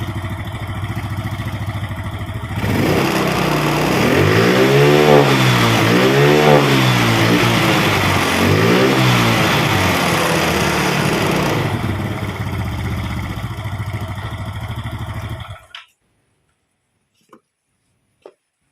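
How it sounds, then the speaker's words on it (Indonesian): A Yamaha Mio Sporty scooter engine with lost compression idles, then revs up loudly several times in rising and falling surges, settles back to idle, and cuts off abruptly. "Oke, sekarang saya coba geber"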